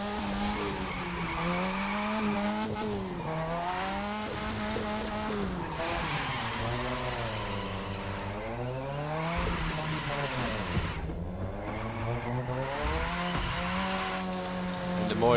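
In The Crew 2 racing game, a smoking drift car screeches its tires in long, sliding squeals over a revving engine that rises and falls repeatedly, continuous and without talk.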